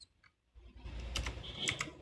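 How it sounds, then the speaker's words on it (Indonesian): Keys clack on a computer keyboard during Linux shell work, a few quick, close taps after a brief pause, with faint low background noise. "Kita ketikkan titik"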